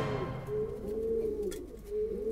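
Racing pigeons kept in a Dutch street coo in repeated soft, throaty phrases close by, with no voices over them.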